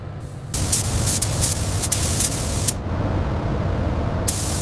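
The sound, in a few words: spraying high-temperature primer on a V8 engine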